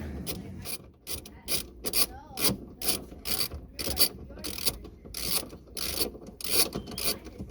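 A hand ratchet working the upper strut mount bolts on a Mitsubishi Mirage during a coilover install: steady, rhythmic clicking strokes repeated about a dozen times, close and clear, with no talk.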